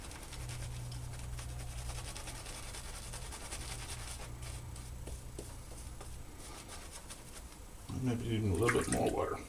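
Water being added to shaving soap from a tap, a soft steady trickle and splash under faint background noise, turning louder and closer with sloshing near the end.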